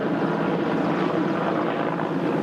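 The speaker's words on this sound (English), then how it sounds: "Helicopters drew water from the nearest bodies of water and kept returning to the fire sites again and again." Firefighting helicopters flying over fire sites while drawing water to drop produce a steady, loud, broadband rotor and engine roar that holds unbroken throughout without any speech.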